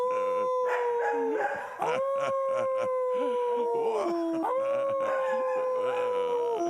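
A dog howling in long, wavering, drawn-out cries that rise and fall in several phrases, close and loud, with a few short yips between them.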